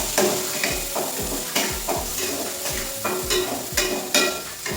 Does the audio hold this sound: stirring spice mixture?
yes